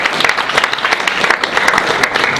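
Audience clapping at a political speech, dense and steady throughout, a close, loud wash of many hands with no voices over it.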